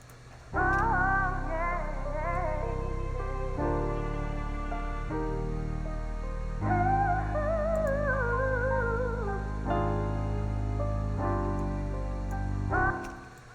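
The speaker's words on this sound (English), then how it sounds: "this last little melody part that I added in was the strings" A layered string melody with a lead violin line gliding above sustained chords and a steady low pulse, played as music with no voices.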